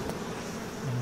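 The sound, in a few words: bees buzzing in the video game BioShock Remastered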